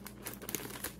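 Scissors snipping snack packaging, a quick run of several sharp crisp cuts and crinkles heard up close with no talking.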